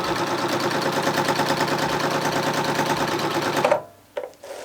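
A Bernina B480 sewing machine sews a straight stitch at high speed, a steady rapid loud whir and clatter that stops abruptly, followed by a couple of short mechanical clicks.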